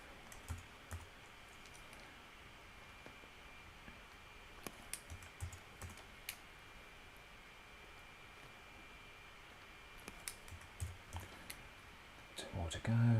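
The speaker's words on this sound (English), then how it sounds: "We can type directly into here as well" Typing on a computer keyboard while entering values in photo-editing software, quiet scattered key clicks over a steady background hiss, with a louder thump near the end.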